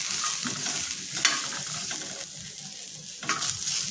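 Grated coconut, colocasia pieces and chopped garlic roast together in a pan, giving a soft, moderate sizzle broken by scraping stirs at a relaxed pace.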